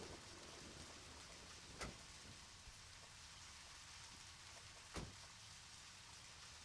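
Steady rain hiss from the video game Deadly Premonition pours down continuously, with two brief sharper taps or splashes standing out over the wash.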